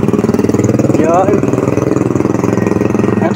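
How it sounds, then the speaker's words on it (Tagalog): Motorcycle engine idling close by with a steady, throbbing mid-range drone throughout, a brief rise in pitch partway through, with people talking over it. "Yung motor niya oh, ni Niboy oh."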